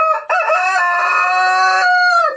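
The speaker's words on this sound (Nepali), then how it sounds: "हाम्रो भालेले कुकुरी कहाँ भनिरहेछ" A rooster gives one long, loud, close crow lasting about two seconds, clear and alone with no talk over it.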